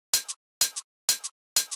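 A house-music hi-hat and shaker sample loops four times at an even pace, each beat a bright crisp tick followed by a short softer shake, clean and close with silence between.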